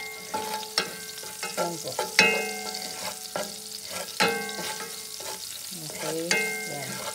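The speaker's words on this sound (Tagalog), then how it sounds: "Hintayin lang natin na mag-brown ang ating bawang." Garlic fries in a pan while it is stirred, with a continuous close sizzle broken by frequent clinks and scrapes of the utensil against the pan. A voice speaks briefly.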